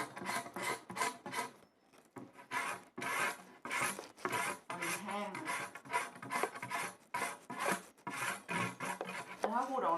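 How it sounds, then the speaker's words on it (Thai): A tool scrapes the fuzzy outer layer off leucaena wood in quick, rhythmic rasping strokes, close and crisp, each stroke separated by brief pauses and a longer gap early on. "ต้องขูดขูดขุยมันออก ไม่งั้น มันจะเป็นเหมือนฝุ่น"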